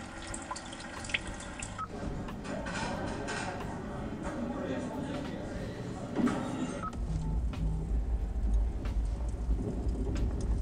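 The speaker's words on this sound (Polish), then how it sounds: "deszczowy dzień." Steady patter of falling rain with dripping water, continuous and fairly soft, with a low rumble deepening toward the end; a rainy-day nature sound played in a 2021 Hyundai Tucson.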